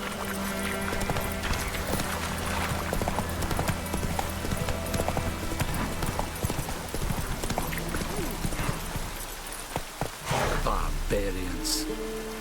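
Hooves of Roach, a horse in the video game The Witcher, clip-clop steadily under rain and a dense game soundscape, with a rider's voice urging the horse on.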